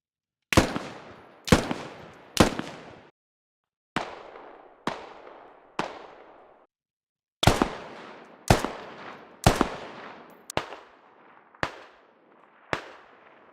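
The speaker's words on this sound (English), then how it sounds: "there actually are 2 distinct different gun sounds for every gun, depending on whether it's up close or further out" Gunfire from M4 and AK-74 rifles in the video game Squad, heard as about a dozen sharp single shots and short bursts with decaying tails, some crisp and close, others duller and more distant, with no talk.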